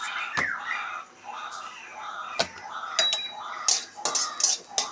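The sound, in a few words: black cumin seeds dry-frying in a wok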